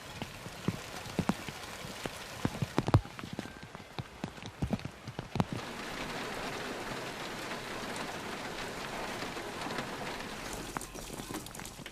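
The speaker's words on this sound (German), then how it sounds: "ausgerechnet heute regnet es" Steady rain patters on a surface, with sharp irregular drips and knocks scattered through the first half, then a more even wash of rainfall.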